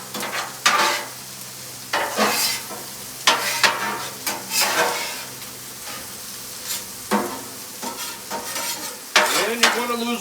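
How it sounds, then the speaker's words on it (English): Beef, bacon and corn being stirred together on a Blackstone flat-top griddle, with repeated bursts of scraping and spatula strokes over a steady sizzle of frying, close and fairly loud with no talk. "Now we're just going to mix it all together."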